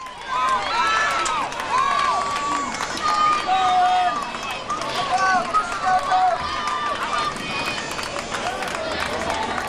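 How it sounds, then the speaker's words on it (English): Crowd cheering and shouting at a school track meet, a steady loud roar with whistles and yells across the whole stretch, sustained without break while runners race. "Got a good cheering section."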